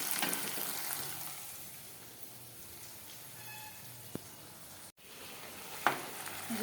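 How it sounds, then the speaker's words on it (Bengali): Chopped onions fry with a soft, steady sizzle in a pan for a thin red mutton curry, fairly quiet and close, with a couple of brief clinks and a light scrape near the end and no talking. "পেঁয়াজটা মোটামুটি ভাজা ভাজা হয়ে গেছে"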